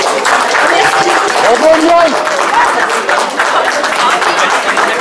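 An audience at the opening speech of a book fair in Val de Saône applauds a speaker, a steady wash of clapping throughout while a voice briefly speaks over it.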